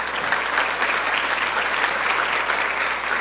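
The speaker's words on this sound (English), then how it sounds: "please give them a round of applause because they certainly deserve it" An indoor audience at a women-in-tech community event claps for the event sponsors, a dense, steady round of applause that holds evenly throughout without cheering or speech.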